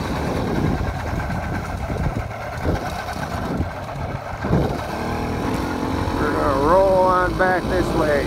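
Small 80cc motorbike engine droning steadily on a morning hill ride through trees, its revs rising and falling with a whining pitch sweep near the end, while a rider talks over it.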